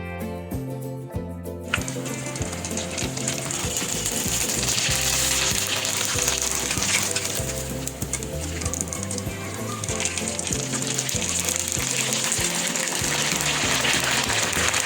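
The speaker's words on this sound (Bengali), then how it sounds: "আমি একই রকমভাবে বাকি পিঠাগুলো ভেজে নেব" Rice flour pitha cakes, shaped with a jackfruit-leaf flower design, frying in hot oil with a dense, steady crackling sizzle that swells after a quieter opening and keeps up close and loud throughout.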